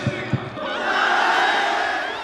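A crowd cheers at a Turkish political rally for Recep Tayyip Erdoğan. The roar of voices swells and holds in the middle distance after a couple of sharp thumps at the start.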